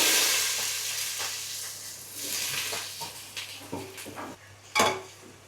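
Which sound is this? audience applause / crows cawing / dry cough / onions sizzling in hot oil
onions sizzling in hot oil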